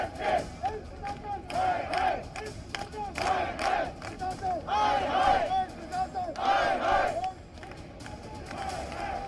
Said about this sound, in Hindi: ताली बजाकर नारेबाजी हो रही है